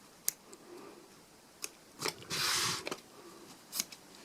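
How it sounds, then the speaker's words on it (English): Scissors trimming frayed fabric edges on an embroidered in-the-hoop coaster, a few sharp snips and short crisp cutting strokes spaced irregularly, close and fairly quiet. "just cut them away."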